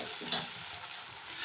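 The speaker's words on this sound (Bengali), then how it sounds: "এটাও আমি নেড়ে নেব।" Poppy seed paste stirred in hot mustard oil in a pan, giving a soft, steady sizzle with light scraping of the stirring, close and fairly quiet, with no voices.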